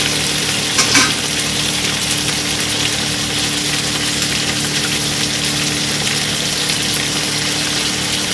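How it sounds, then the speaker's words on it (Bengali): Cut okra frying in hot oil for a Bengali mustard okra dish, a steady, loud, dense sizzle that holds evenly throughout with no talk. "দিয়ে দেবো কেটে রাখা ভেন্ডিগুলো"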